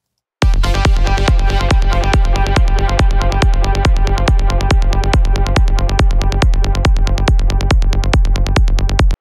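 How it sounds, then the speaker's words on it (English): A loud, punchy progressive psytrance synth pluck repeats in a fast steady rhythm, each hit trailing into echoing delay repeats, continuous for several seconds with no voices. "today we're going to do a big progressive Psytrance delay"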